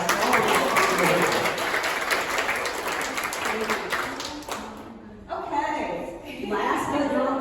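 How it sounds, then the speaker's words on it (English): A conference audience applauds with loud, dense clapping that fills the first five seconds, dips briefly, then resumes more thinly toward the end. "So give them a big round of applause."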